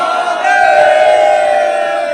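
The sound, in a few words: crowd of devotees celebrating Holi at Mahadev temple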